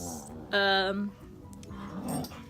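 Dogs' low growl rises into a drawn-out whine, with a person talking over it nearby.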